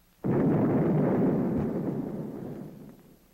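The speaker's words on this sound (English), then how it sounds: "At the burst point, the warhead is detonated." A Mark 45 torpedo warhead detonates at its burst point: one sudden loud blast that swells into a sustained roaring rumble, slowly fading over about three seconds.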